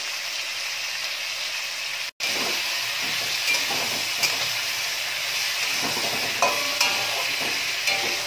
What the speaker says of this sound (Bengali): সবজির সাথে নাড়িয়ে চাড়িয়ে দেখো মশলাটাকে ভালো করে একটু কষিয়ে নিচ্ছি